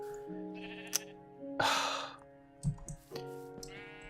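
Sheep in Minecraft bleat in a few wavering, nasal calls, one loud and close with a breathy burst, over soft game music and small clicks.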